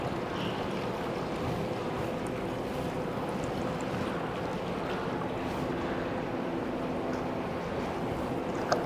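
Water flows at a push-to-start exhibit in the California Science Center in Los Angeles, a steady, even rushing wash that continues unbroken at moderate level with no one speaking.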